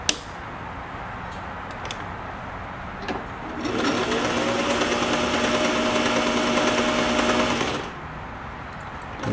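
A Singer 503A sewing machine stitching a blind hem gives off a steady, close mechanical whir for about four seconds. Quieter handling noise comes before and after the stitching.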